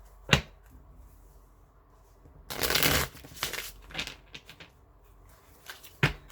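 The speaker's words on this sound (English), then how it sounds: "Going to choose some of the Twin Flame Journey Oracle cards by Mystic Moon Oracle." Twin Flame Journey oracle cards by Mystic Moon Oracle shuffled by hand: a sharp riffle, then a longer flurry of papery card noise and scattered flicks, ending in one crisp snap, close and alone.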